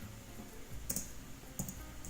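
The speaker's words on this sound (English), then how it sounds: "Just typing in some photo reference for that." Computer keyboard typing at a quiet desk during a comic inking session, with a couple of brief, faint key clicks over a low background hum.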